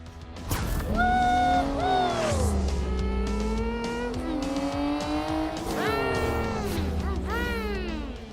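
Toy monster trucks race full throttle over a slime-covered track, engines revving and whining up and down in pitch with tire squeals, loud and close, under animated cartoon action.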